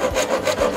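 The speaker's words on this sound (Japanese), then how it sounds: "ノコギリか" A handsaw cuts through wood in three strong rhythmic strokes, each a broad rasping sweep, close and loud with no talking.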